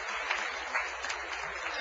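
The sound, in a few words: audience applause in church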